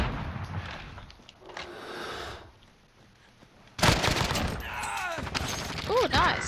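Bursts of LMG gunfire in the Call of Duty Warzone video game: a quieter stretch of shots, then a loud, sustained rattle of rapid fire from about the middle onward, with players talking over the game audio.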